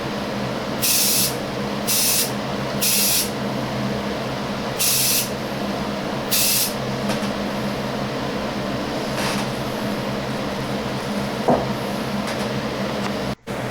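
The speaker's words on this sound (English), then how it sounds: "Speaking of the primer, light coat going on." Short bursts of spray primer laid as a light coat on a Siku Ferrari diecast model, five hissing blasts in the first seven seconds, then a quiet room hum.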